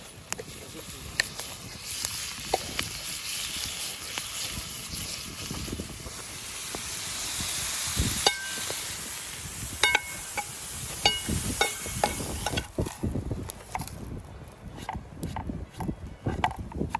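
Vegetables hiss and crackle as they fry in a pan over a forest campfire, with utensil taps and some talking over the sizzle.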